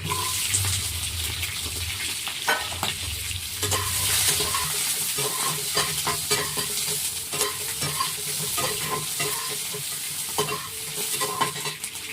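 Diced onion fries in white oil in a wok, a loud, close, sustained sizzle with busy crackling and scraping stir strokes, with no speech over it.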